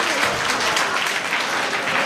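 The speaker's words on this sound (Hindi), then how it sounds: "चलिए एक और ताली बजाइए इनको लिए।" A classroom of students claps loudly and continuously for a student, a brief burst of dense, even applause.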